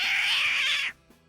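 A man vocally imitates a snarling cat fight, a loud, harsh, continuous yowling screech that cuts off abruptly, followed by near silence.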